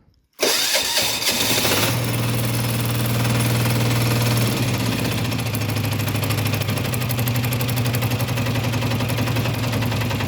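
A DTZ 585D walk-behind tractor engine cranks and fires after a brief silence, then settles into a loud, steady, rapidly pulsing idle that continues to the end, close up with no voices.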